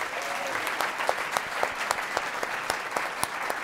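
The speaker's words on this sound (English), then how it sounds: "Please give everybody a round of applause." Audience applause after a panel discussion with a moderator, steady clapping from a room of people with distinct sharp claps standing out, even and sustained throughout.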